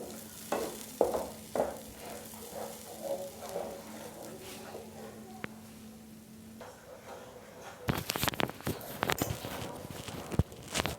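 Spices being roasted and stirred in a pan for a spinach dish, a soft, quiet sizzle with scattered spoon taps and a faint hum, then a burst of louder, rapid scraping and clattering stirs near the end.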